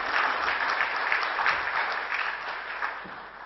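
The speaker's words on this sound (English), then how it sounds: "Please give him a big round of applause." Dense audience applause at a conference session on the India Budget 2013 and its Middle East impact, a steady patter of many hands clapping close by that fades slightly toward the end.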